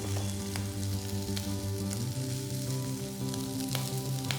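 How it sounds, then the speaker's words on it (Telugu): Mutton frying in a pan gives off a dense, constant close sizzle with scattered crackles and pops, steady throughout with no talk. "ఈ మటన్ కొంచెం మంచిగా ఫ్రై చేసిన తర్వాత ఆ పేస్ట్ యాడ్ చేయాలి."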